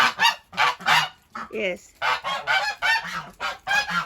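Ducks quacking and honking loudly in the rain at a muddy spot, a rapid run of harsh, close calls with brief gaps between them, and a voice briefly speaking once among them.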